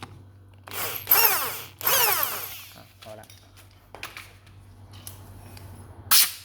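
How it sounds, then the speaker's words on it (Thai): Power drill boring a hole in a spring ahead of tapping an M6 thread, heard as a few close, loud whirring bursts with pauses between them over a steady low motor hum. "บางคนสปริงยาวก็เจาะ เจาะลงลึกกว่านี้ก็ได้นะครับ"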